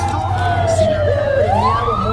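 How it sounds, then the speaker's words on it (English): An ambulance siren sweeps up and down in pitch as it passes in a city street, loud and continuous, with traffic noise underneath. "it's an ambulance"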